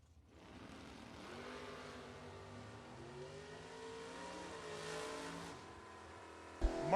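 Camaro drag race cars, including an 83 Camaro, accelerate at a bracket nationals event, a rising engine roar building steadily from a distance before a sharp loud burst at the end.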